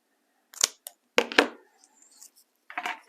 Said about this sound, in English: I'm going to cut it.